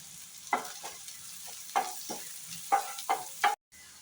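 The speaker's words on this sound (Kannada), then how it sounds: "ತುಪ್ಪ ಬಿಸಿಯಾಗಿದೆ. ಈರುಳ್ಳಿ ಹಾಕುವ" Chopped onion, green chili and curry leaves frying in hot ghee for an egg masala, with sizzling bursts as ingredients hit the pan and a few stirring scrapes, close and moderately loud, no talking.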